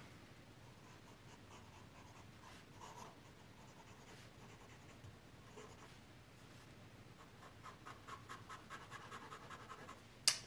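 A Pelikan M800 fountain pen with an extra-fine nib scratches across paper, quiet close-up strokes in a steady rhythm of short scritches, busier toward the end and finishing with a sharp tap.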